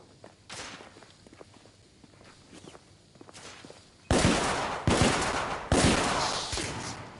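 Gunfire in The Order: 1886, with faint footsteps and distant pops giving way to three loud, close gunshot blasts spaced about a second apart, each with a long reverberant tail.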